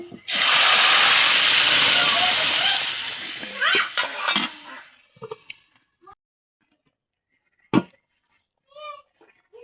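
A loud burst of hissing sizzle as something hits hot oil with fried onions and chilies, fading after a few seconds into quiet clinks and brief speech.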